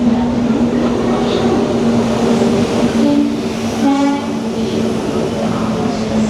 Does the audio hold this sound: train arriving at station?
yes